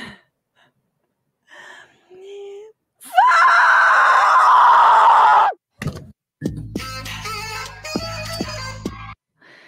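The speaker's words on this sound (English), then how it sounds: "That was the epic scream heard around the world when Trump won." A recording of the famous scream reacting to Trump's election win plays: a loud, sustained anguished shriek lasting a couple of seconds, framed by short gasps and thumps, then followed by choppier sobbing or wailing.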